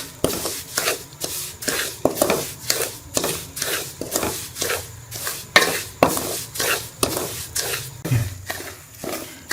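Moong dal being roasted and stirred in a pan on low heat, rhythmic scraping strokes of the spoon through the dry grains, about two per second, close and steady without talk.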